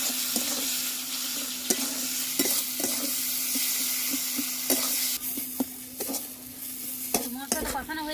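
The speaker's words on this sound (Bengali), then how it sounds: "সামান্য পরিমাণ জল দিয়ে মশলাটা কষিয়ে দেবো।" Spice paste of ground ginger-garlic, coriander-cumin paste, chilli powder, turmeric and salt, loosened with a little water, sizzles steadily in a pan for a village-style egg and lentil curry, with repeated scraping stirs at an irregular rhythm, close and loud.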